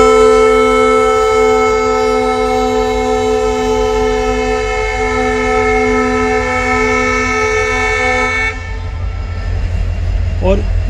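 Indian Railways Guwahati–Bikaner Express hauled by twin Alco WDM diesel locomotives in heavy fog, sounding a loud sustained multi-tone horn for about eight seconds over a deep engine rumble, which then continues alone.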